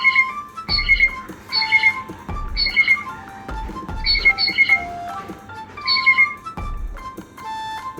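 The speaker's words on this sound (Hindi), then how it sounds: "आइए जानते हैं ब्लू जे की साउंड।" Repeated harsh, squawking calls of a blue jay, several loud jeering notes in an irregular series with short pauses between them, close and clear.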